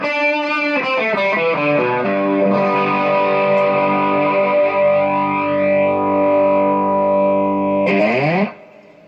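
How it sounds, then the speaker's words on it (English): A sustained, distorted electric guitar chord rings out while a sweeping auto flanger effect from a Strymon Deco pedal swirls through it, loud and alone, before a final strum cuts off. "can hear that auto flange there"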